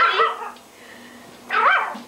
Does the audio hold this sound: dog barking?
yes